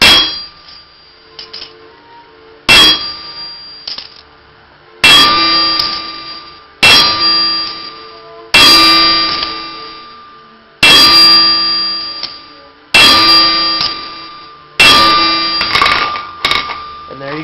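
Iron flower struck repeatedly with a hammer on metal during ironwork shaping: about seven loud, ringing clangs spaced roughly two seconds apart, each decaying with a bright metallic ring, with a voice speaking between blows.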